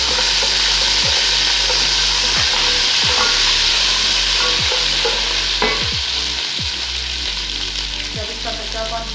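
Onions browned to golden in cooking oil fry with a ginger, garlic and green chili paste for a yogurt kari pakora, giving a steady close sizzle with repeated stirring scrapes, and no talk.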